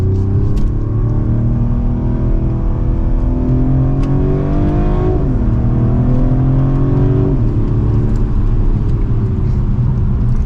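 A 2024 Mercedes-Benz CLE450 coupe pulling hard in second gear, its engine note rising steadily, dipping briefly at a shift-like pause, then climbing again, loud and close with constant road and wind noise underneath.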